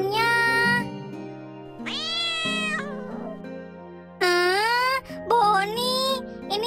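A cat meows loudly and repeatedly in long, drawn-out, wailing cries, several separate calls with short pauses between them, close to the listener and with no talking over them.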